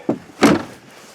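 Damaged rear door of a Dodge RAM 2500 truck with an 8.0L V10, two quick close knocks as it is worked, a light tap followed by a louder, rattling clunk.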